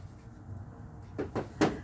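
A bedside table drawer in a patient care room slides shut, giving three quick wooden knocks and clunks close by over a quiet room hum, with the last knock the loudest.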